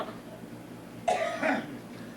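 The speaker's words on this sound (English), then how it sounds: "when you get something caught, you just cough and cough and cough" An elderly woman gives a short cough, a sharp burst followed by a second rougher cough and throat clearing, close and moderately loud over quiet room hiss.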